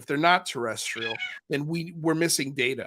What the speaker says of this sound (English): What was that? That was a cat.